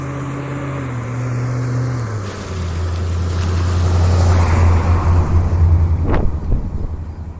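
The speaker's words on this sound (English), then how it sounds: "let this bus pass because I can't yell." A bus rumbles past on a street, a steady low engine drone that rises and swells as it nears, then gives a brief hiss near the end, heard alone with no talking.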